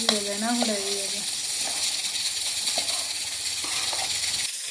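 Potatoes tempered in hot oil give a steady, loud sizzle and hiss throughout, with a voice speaking briefly over it at the start.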